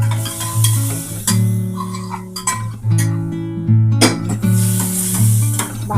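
Mutton keema frying in a pan with garam masala, stirred with repeated scraping and clinking of a utensil against the pan over a loud, continuous sizzle, fairly close.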